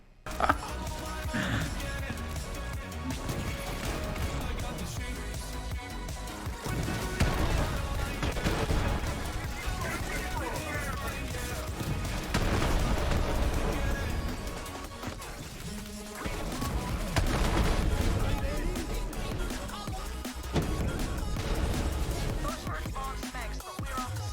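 Creamer weapon gunfire in Borderlands 3, dense bursts of explosive shots and crashing impacts in rapid succession, loud and continuous with short lulls, layered with game effects and no talk.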